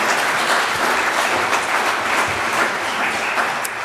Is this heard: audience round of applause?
yes